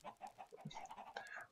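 Minecraft chickens on an automatic egg farm give soft, short clucks, several brief calls spread across a quiet stretch with no talking.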